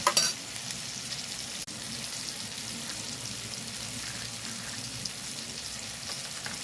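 Ginger paste frying with browned onions in a pan over a clay stove, a steady close sizzle with a brief stirring clatter at the start.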